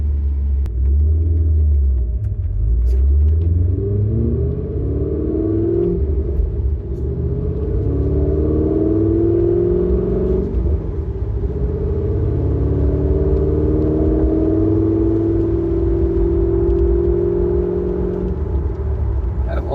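A Chevrolet Corvette C5 Z06 cruises down a highway at night in humid weather, its steady low engine rumble and road drone filling the cabin continuously, with the exhaust note rising gently as it gathers speed.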